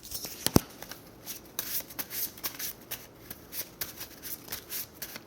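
Paper question slips or cards shuffled and mixed by hand, a steady close rustling riffle with sharp flicks at the start, continuing alone without talk.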